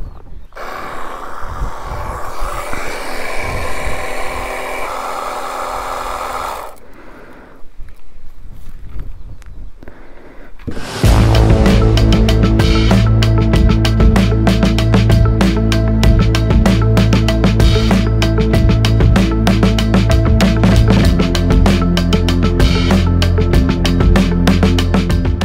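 A portable battery pressure washer gun sprays water onto a Duke 250 Gen 3 motorbike, starting as a broad hiss and breaking into a loud, dense, continuous blast of spray and motor hum close by.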